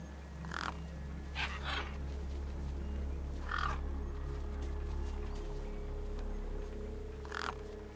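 Crows caw in several short bursts over a corpse propped against a rock in the game Beyond a Steel Sky, spaced a few seconds apart above a steady low ambient hum.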